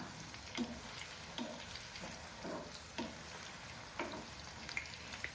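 Chicken 65 pieces fry in oil over a medium flame, giving a quiet, continuous sizzle with soft crackles and occasional light taps of a utensil stirring, heard close and alone without talk.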